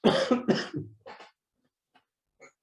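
A few harsh coughs close up, followed by softer throat sounds trailing off into quiet.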